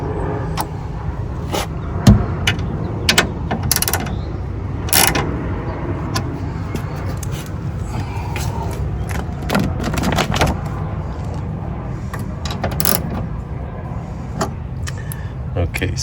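A ratchet tightens window track parts inside the door of a 1993-2002 Camaro or Firebird, giving close, irregular clicks and metallic taps over a low background rumble.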